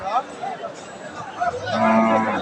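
Cattle moo several times at a busy village cattle market in Dinajpur, with lean, bony cows for sale; calls come close and loud over a murmur of crowd noise, ending in a long sustained moo.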